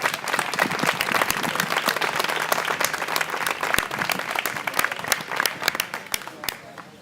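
Crowd at a public talk in a hall bursts into strong, continuous applause, with many sharp individual claps standing out clearly in a close, lively mix throughout.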